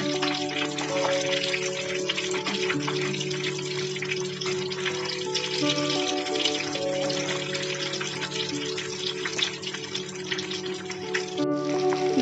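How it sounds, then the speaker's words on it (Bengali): Shrimp deep-frying five at a time in a pan of oil at home, a steady busy sizzle and crackle running unbroken for the whole stretch at close range, with no talk. "এটা আমাদের ডুবো তেলেই ভাজতে হবে।"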